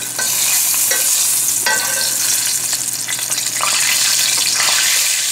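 Bronzino fillet fries in light olive oil in a pan, giving a steady, loud, hissing sizzle with crackly spatter and a few soft scrapes, with no talking over it.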